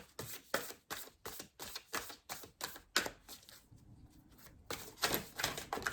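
Oracle cards being shuffled by hand for a love reading, a rapid series of crisp papery riffles and flicks in steady rhythm, close and alone, pausing briefly before a few more shuffles.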